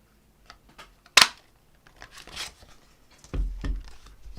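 A tailor-type paper punch bites through basic gray cardstock: a single sharp close snap, followed by soft rustling and handling of the paper.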